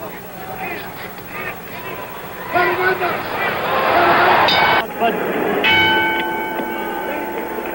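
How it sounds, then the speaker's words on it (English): At the San Diego Sports Arena, a boxing bell rings to start a round of the Ali–Norton heavyweight fight, its clear ringing tones cutting through a noisy arena crowd while a commentator talks. "The bell for the start of round 5."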